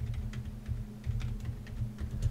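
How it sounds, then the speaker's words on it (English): Quiet keys tapped on a computer keyboard in short irregular bursts, soft and close, with no voices. "I'll just start typing things."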